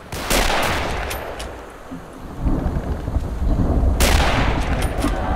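Combat in a Berlin street fight in the Darkest Hour: Europe '44-'45 game: two heavy, booming blasts a few seconds apart over a constant roar of rolling machine gun fire, loud and close.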